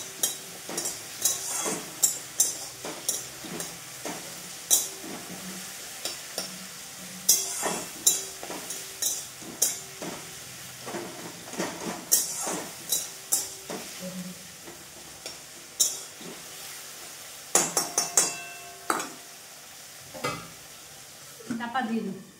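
Onions stir-fried in a pan for a home-cooked Bengali meal, with steady frying sizzle broken by frequent scraping stir strokes and light clinks of a spatula, close and moderately loud, with no talk.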